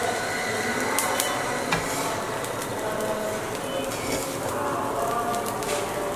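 Salt being stir-fried in a pan for Cantonese salt-baked chicken makes a steady gritty rustle and scrape, with occasional sharper clinks.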